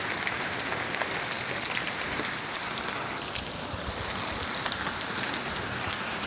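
Heavy rain pours steadily in McLeod Ganj, Himachal, near a small street shop, a dense, continuous hiss of drops striking surfaces with no pauses or talking.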